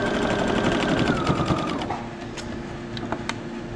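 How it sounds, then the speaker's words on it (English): Sewing machine stitching a fabric mask, a steady fast mechanical chatter of the needle running close up, then slowing and stopping with a few small clicks. "So I just sew into it."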